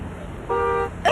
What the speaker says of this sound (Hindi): अचानक हॉर्न बज गया, अंदाजा नहीं था मुझे।